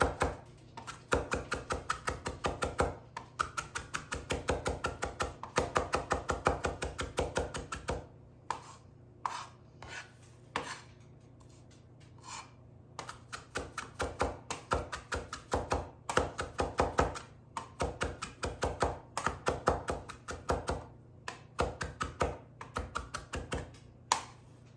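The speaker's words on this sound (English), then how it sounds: "Chop it as finely as you can." A knife chops cilantro stems finely on a cutting board, a long run of quick, steady taps with brief pauses, close and crisp, no talking.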